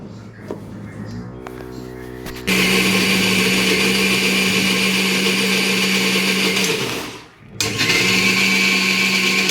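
A mixer grinder grinds soaked rice and urad dal into dosa batter, starting with a low whir before surging into a loud, steady high-pitched motor roar, briefly cutting out near the end and then restarting.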